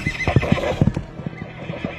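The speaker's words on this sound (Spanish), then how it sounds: "Los caballos no se querían quedar en el establo." Horses in a stable whinny loudly and close, with hooves clopping and shuffling in an uneven rhythm between the calls.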